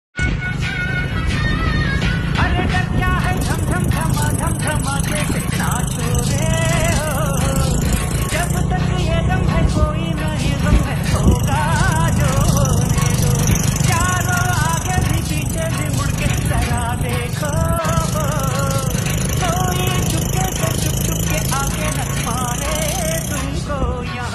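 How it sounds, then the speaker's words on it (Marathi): A motorcycle engine idles and revs through a fitted exhaust silencer, giving a loud, continuous, throbbing drone that holds for the whole stretch with faint voices in the background. "हे बघा सायलेन्सरचा आवाज कसा वाटला"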